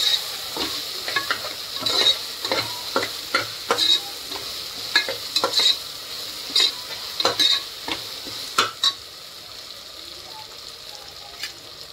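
Fish frying in a pan for a prawn and peas pulao, with a steady sizzle under repeated scraping stirs of a spatula, close and moderately loud, the strokes coming in an uneven rhythm.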